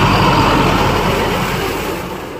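A Kubota MU5502 4WD 55 hp tractor engine runs at a steady low idle, a close, smooth, rumbling drone that fades slightly toward the end, with no speech over it.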